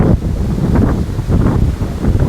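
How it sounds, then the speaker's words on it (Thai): Wind on the summit of Khao Khitchakut mountain blasts steadily and loudly across the microphone in a dense, unbroken rumble with no voices. "ลมแห้งนะครับเพราะอยู่ยอดเขา"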